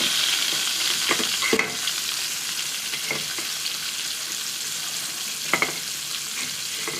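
Steady, loud sizzling of food frying in hot oil, with a few soft clinks and stirring scrapes along the way.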